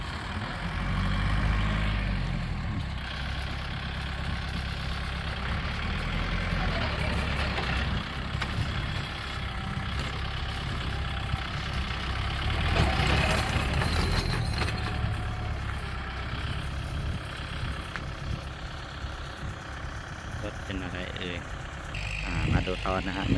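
A small tractor engine rumbles steadily at idle beside a rice paddy, a low continuous drone that holds even throughout with occasional faint clanks.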